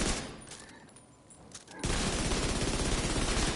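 Rapid automatic gunfire from a video game breaks out halfway through, a dense, loud, sustained burst following a quieter stretch of scattered shots and game noise.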